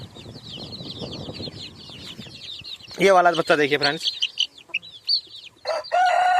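Mixed-breed desi chickens cluck and chirp close by, a rooster lets out a loud crow partway through, and someone speaks briefly over the birds.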